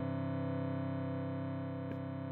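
A Telharmonic Eurorack harmonic oscillator in VCA mode gives a dense, steady, doom-like drone full of stacked overtones, holding without a break apart from one brief click near the end.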